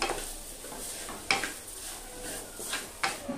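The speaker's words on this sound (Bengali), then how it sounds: "তো চিনি দেওয়ার পরে নারকেলটাকে এভাবে একটু অনবরত নাড়তে হবে" Coconut filling with sugar for puli pithe is stirred in a pan, giving soft continuous scraping broken by a few sharper knocks of the spoon against the pan, nearby and fairly quiet with no voices.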